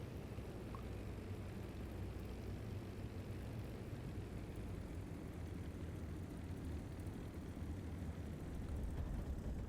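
Spitfire LF Mk. IX touching down on a runway in DCS World, a steady, loud low engine and wind rumble running throughout without a distinct impact.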